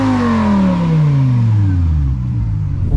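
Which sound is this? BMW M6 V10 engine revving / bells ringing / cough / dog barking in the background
BMW M6 V10 engine revving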